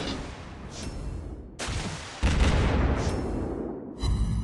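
Gunfire striking a warship in the mobile naval game World of Warships Blitz, involving a Russian tier 7 Leningrad destroyer: dense, rumbling blasts and impacts that surge in loud bursts and layer into continuous battle noise.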